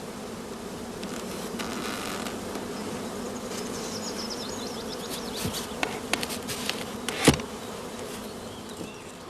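Honey bees drone steadily around an open brood chamber during a hive inspection, a dense, continuous buzz with a few brief louder knocks near the end.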